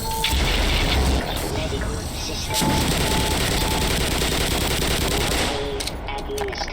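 The gluon gun fires a continuous loud buzzing energy beam in the video game Black Mesa. The crackling stream runs almost the whole clip, with a brief dip partway through, and someone talks over it.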